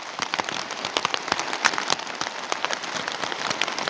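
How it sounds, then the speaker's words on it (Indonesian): Heavy rain at a campsite, dense patter with many sharp drops striking nearby surfaces, steady and fairly close throughout. "hujan sudah mulai turun,"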